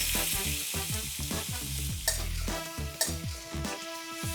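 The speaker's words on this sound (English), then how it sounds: "simply saute the vegetables till they are 3/4 done" Vegetables sauteed in a pan with a constant sizzle and repeated rhythmic scraping strokes of a spoon, plus a couple of sharp knocks against the pan, close up with a faint tonal hum behind.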